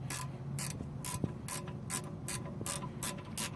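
Ratchet wrench loosening the top bolt on a 2004 Chevrolet Blazer rear brake: a rapid series of sharp metallic clicks in regular bursts, close and clear, with no talking.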